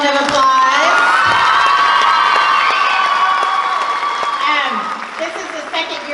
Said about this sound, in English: Give Ms. Dickinson a big round of applause